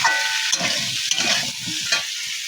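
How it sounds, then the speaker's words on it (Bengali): Pieces of yam sizzle steadily in hot oil while a utensil scrapes and stirs them in short, repeated strokes, close and loud. "ওলটা দেখো নাড়া হচ্ছে, একটু ভালো করে ভাজতে হবে"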